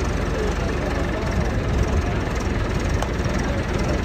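A heavy engine drones steadily at close range, a continuous low rumble with no change in pace.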